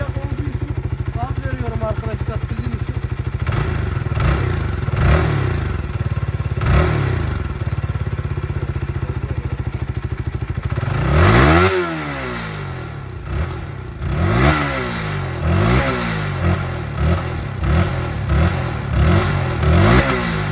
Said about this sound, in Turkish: Bir çalıştıralım motorun sesini çalıştıralım.